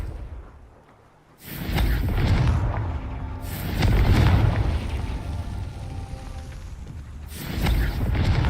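Explosions from a Confringo fire spell in the Hogwarts Legacy video game roll out as loud, booming bursts. Three heavy blasts each swell and decay slowly with a crackling, debris-like tail.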